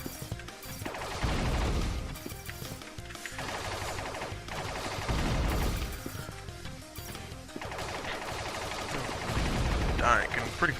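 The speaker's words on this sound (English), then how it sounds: "Back to my old trusty laser submachine gun." A laser submachine gun fires in the A.R.E.S. Extinction Agenda video game, loud repeated bursts with heavy crashing impacts, mixed with other game effects and music.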